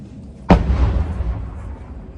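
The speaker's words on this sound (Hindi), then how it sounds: "ये आर्टिलरी की ऐसी ही आवाजें आपको सुनाई देंगी।" One sharp artillery blast near the Gaza Strip cracks out loudly, then rolls into a long, low rumbling decay across open ground.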